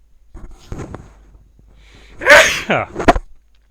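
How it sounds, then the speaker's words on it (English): A single loud sneeze bursts out after a few quiet breaths and small sounds, followed by a short sniff. "Oh, sneeze coming up, excuse me."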